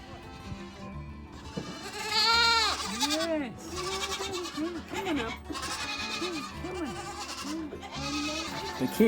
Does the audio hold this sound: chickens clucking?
no